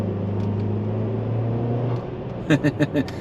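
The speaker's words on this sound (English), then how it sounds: "You can hear just the slightest blow off when the recirculation valve opens up and dumps the boost back into the intake" Buick Cascada 1.6L turbo engine holds a steady drone, then lifts off throttle with a faint, brief blow-off hiss as the recirculation valve dumps boost, followed by a few short puffs.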